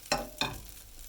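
An omelette sizzles in a frying pan just after being flipped, two quick soft impacts followed by a steady quiet hiss.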